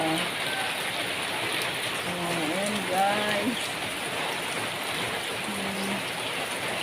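Heavy rain pours steadily throughout as a dense hiss on chickens sheltering outdoors, while a voice speaks briefly through the downpour.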